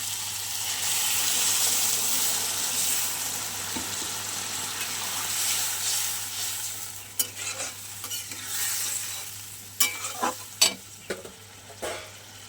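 Fish curry frying and being stirred in a pan, with a small amount of water added to the hot mixture, producing a steady sizzle and then sharper bursts and scrapes of stirring toward the end, close and fairly loud.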